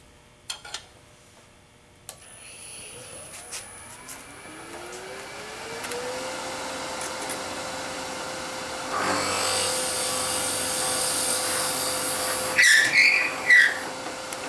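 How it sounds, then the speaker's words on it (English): Woodworking drill driving a 3/4 inch Forstner bit into wood for a pendant ornament, a steady motor whine that rises as it spins up and grows harsher as the cutter bites, with brief clicks and knocks before and after. "I'm going to cut that with a 3/4 inch Forstner bit."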